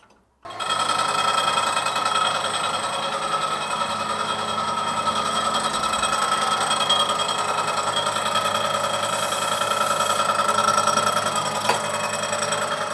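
An angle grinder cuts into a Rover exhaust manifold, starting abruptly and then holding a steady, loud, high-pitched whine with a dense metallic rasp for the rest of the stretch, with no talking.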